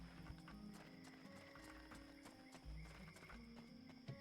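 Hooves clip-clop from horses in the fantasy video game Bound By Flame at night, a steady trotting patter mixed with game music and ambient sound, with a brief snort or whinny near the end.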